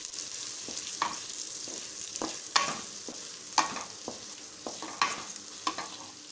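Chopped onions frying in a pan for Indian-style spicy pasta, a steady soft sizzle broken by repeated sharp clicks and scrapes of a utensil stirring, close by with no talk.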